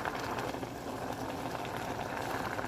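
Mustard greens boiling in a pot of water on the stove give a steady, fairly quiet bubbling and hissing that runs unbroken throughout, with no talk over it.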